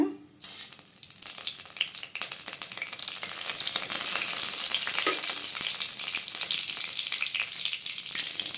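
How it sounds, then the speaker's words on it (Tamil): Mustard seeds sizzle and crackle in hot oil in a heated pan, a loud, steady hiss with scattered pops that builds within the first second and continues without a break. "வடச்சட்டி சூடாயிடுச்சுங்க எண்ணெய் சேர்த்துக்கலாம் கடுகு சேர்த்துக்கலாங்க"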